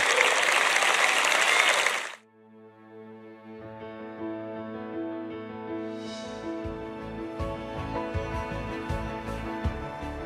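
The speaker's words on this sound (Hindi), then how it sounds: "चलिए परमेश्वर के लिए जोरदार तालियां बजाएं।" Loud applause from a church audience for about two seconds, then it cuts off and gentle music continues to the end.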